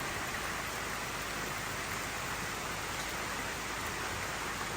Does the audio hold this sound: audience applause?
no